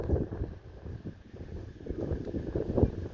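Breezy wind gusts outdoors, buffeting the microphone with a low, uneven rumble that swells and eases throughout, no voices.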